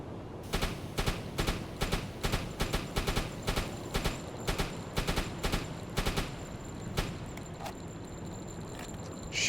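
Naval guns on a warship in a video game pound away with high explosive shells at a freighter, a dense run of rapid, evenly spaced blasts over roughly eight seconds, loud and steady with a busy rumble beneath.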